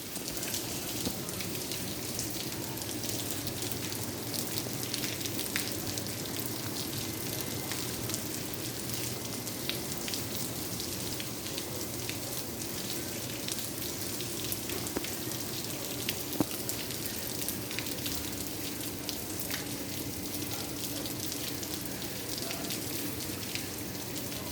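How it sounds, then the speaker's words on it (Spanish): Steady rain falls continuously, a dense even hiss of drops hitting surfaces, with no talking. "A ver la lluvia que está lloviendo."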